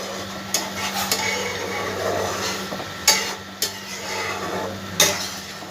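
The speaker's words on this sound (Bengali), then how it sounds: "ভালো করে সবগুলো একটু নাড়াচাড়া করে দেবো।" Ingredients for a rohu fish curry are stirred in a pan, a spoon scraping and clinking against the metal in irregular bursts with sharp knocks, over a low steady simmering hiss.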